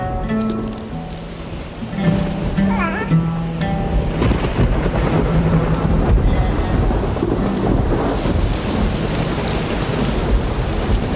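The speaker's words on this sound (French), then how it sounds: "Cette pluie tombe pour glorifier ta naissance, mon enfant." Steady heavy rain pours across the surface while thunder rolls and rumbles, a dense continuous downpour that grows fuller after the first couple of seconds, with a faint musical tone fading at the start.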